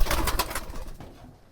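Pigeons coo inside a pigeon farm, giving a few close, soft throaty calls in quick succession that fade out over a moment.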